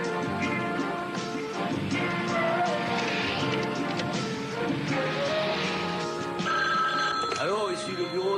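A telephone rings repeatedly in a 1978 Las Vegas detective office, a continuous bell sounding over music and room noise before a brief louder burst near the end.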